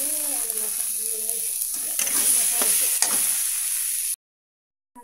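Saag greens fry with fish and spices in a hot pan, a steady loud sizzle broken by a few stirring scrapes before cutting off abruptly.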